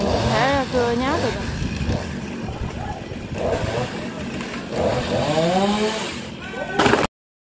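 A chainsaw whines and revs through the stretch, rising and falling in pitch as it bites into a royal palm trunk, with people talking loudly over it.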